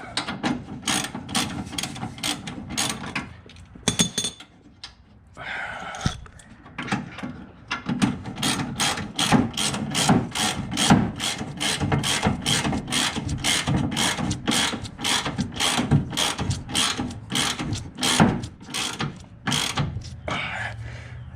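Rapid ratchet clicking in steady bursts as a wrench tightens two bolts on a C2 Corvette front bumper bracket, close and fairly loud, with short pauses between runs and no talking.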